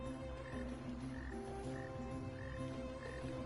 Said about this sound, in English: I hear a croaking of a frog.